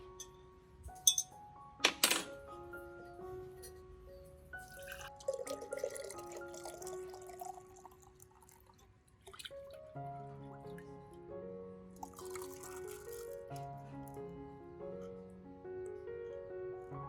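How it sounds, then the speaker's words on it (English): Rice is strained out of its soaking water, giving quiet, scattered drips and trickles with light clinks against a container, irregular and close. "Then, filter out the rice,"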